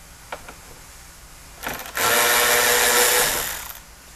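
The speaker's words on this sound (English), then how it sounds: "Then we need to take this 10 millimeter bolt off as well." A power tool, likely an impact driver or drill, whirs up in a short burst and then runs loudly for about two seconds, backing a 10 millimeter bolt out of a Toyota 4Runner headlight assembly, preceded by a couple of faint clicks.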